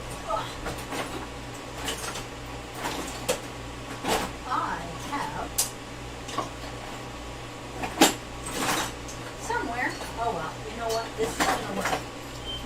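A knife chops pecans inside a pot, giving scattered close metallic taps and scrapes over a low steady hum, with a person talking through much of it.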